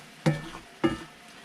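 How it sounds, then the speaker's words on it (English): A spoon scrapes twice across the bottom of a pan while hot broth deglazes it for a crock pot beef stew with mushrooms, two short rasping strokes about half a second apart, close and clear, with no talk. "So take your spoon and just scrape along the edges and get all those little bits up"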